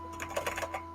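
Someone types on the keyboard of an old Osborne computer: about half a dozen quick, soft key clicks in an uneven rhythm, close by, with a faint steady hum underneath.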